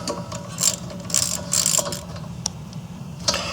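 A ratchet fitted with an 8mm socket drives a brake hose bolt back in during a Ford Escape rear brake job, giving several short, close bursts of rapid metallic clicking.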